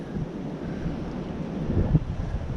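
Strong wind gusting beside the Raccoon River in March, a continuous rough rumble of buffeting against the microphone with a slight swell near the end and no talk.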